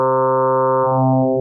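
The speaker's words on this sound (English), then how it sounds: "If the modulator is lower in pitch than the carrier, the resulting sound will have a darker quality" A sustained FM synthesizer tone with the modulator set lower in pitch than the carrier, giving a dark, buzzy harmonic stack. It holds steady, then shifts into a slightly wavering, pulsing texture partway through, alone and fairly loud.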